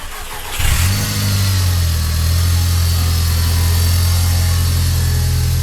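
An Audi TT Mk1 engine cranks briefly, catches and fires up loudly nearby, then drops into a steady, even idle hum with no talk.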